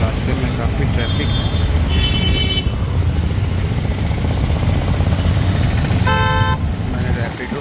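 Busy city road traffic in Patna with a steady engine roar and several short car horn toots cutting through, loud and continuous throughout.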